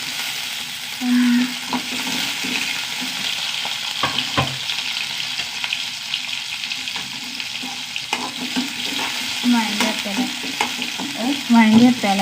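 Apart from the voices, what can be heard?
ginger and garlic frying and being stirred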